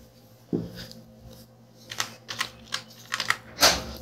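Someone types a shop name on a computer keyboard for an online food licence form: one thud at the start, then scattered bursts of quick, close key clicks with short pauses between them.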